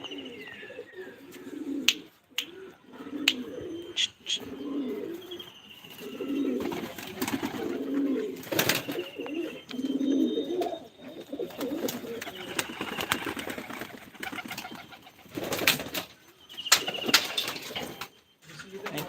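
Tournament racing pigeons coo repeatedly in low, throaty phrases, with occasional wing flaps and brief rustles, fairly close.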